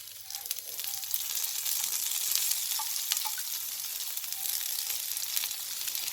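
Stuffed okra fries on low heat in oil, giving a steady soft sizzle with faint scattered pops, close but moderately quiet, and no one speaks.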